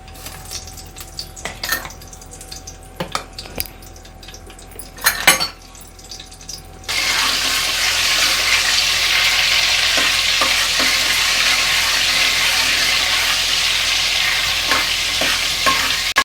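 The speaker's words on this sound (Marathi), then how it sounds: "आता बटर पण टाकूया त्याच्यामध्ये" Butter dropped into hot oil for a pav bhaji tempering: a few scattered clinks and taps of utensils, then a sudden loud, steady sizzling hiss that continues close up without voices.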